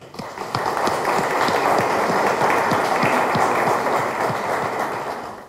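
An audience gives a sustained round of applause in tribute to the late Audrey, dense steady clapping that starts abruptly, holds at an even loud level for several seconds, then begins to taper.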